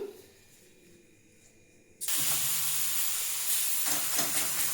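A cucumber dhapate flatbread goes onto a hot oiled griddle. After a quiet start, a loud, sudden, broad hiss bursts in about halfway through and holds steady until the end, close by and with no talking.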